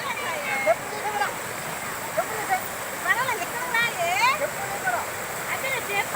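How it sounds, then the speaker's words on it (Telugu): Loud, steady roar of a rushing river fills the scene while voices talk over it, with occasional splashes. "చూడండి వాటర్ ఎలా వస్తుందో చూడండి ఒకసారి"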